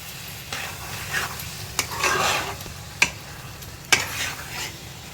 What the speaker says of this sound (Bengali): একটু সময় নাড়াচাড়া করে তারপরে অল্প জল দেব